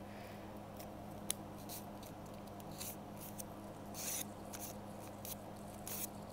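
A paper $20 bill is folded in half up close, giving soft crinkles and scattered papery rustles against a quiet, steady background.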